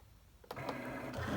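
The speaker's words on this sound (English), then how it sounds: "It's going to suck it up, and it's ready to print." A shirt printer drawing a shirt in for printing: a quiet start, then a motorized whir and mechanical feed that continues steadily, with small clicks and clunks over the top.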